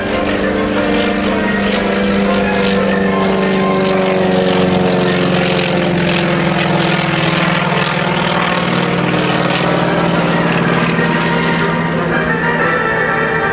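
A T-28 propeller aircraft flies at the 2009 Dover AFB airshow. Its loud, steady engine drone with a humming propeller tone fills the whole stretch without fading.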